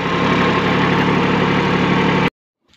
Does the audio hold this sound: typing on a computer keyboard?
no